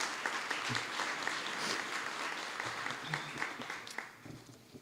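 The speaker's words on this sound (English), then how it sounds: "another round of applause, please" Audience applause at a summer school graduation ceremony, following a marching band performance; broad steady clapping fills the room, moderately distant and fairly quiet, with some voices mixed in.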